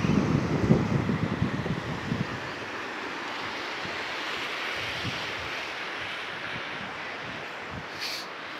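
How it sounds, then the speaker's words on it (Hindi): Mountain water rushes along on the route to Purnagiri temple, a broad steady roar like a torrent, with some gusty rumble at first and no speech. "ये पानी पहाड़ों को चीरता हुआ आ रहा है।"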